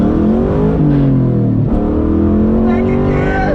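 A 2003 Ford Mustang Mach 1 engine revs hard under throttle, its pitch climbing, dropping briefly at a gear change, then rising again, loud and close.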